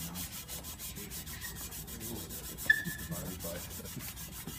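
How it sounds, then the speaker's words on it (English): Sandpaper is rubbed over a nick on an aircraft propeller blade in quick, steady back-and-forth strokes, a close, soft, even scratching with one brief squeak partway through and no talking. "just about another 2 minutes of sanding here, and I would be almost perfect on that thing."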